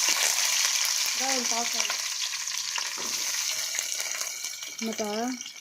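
Onion sauté in a pan with a continuous loud sizzle and stirring noise, and brief bursts of nearby speech cut in at the start and end.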